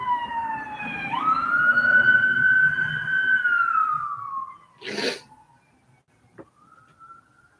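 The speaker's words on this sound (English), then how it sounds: "like you hear the sirens and" An emergency vehicle siren wails in a rising and falling sweep, fairly close and loud, then fades out after a few seconds. A short burst of noise and a faint click follow.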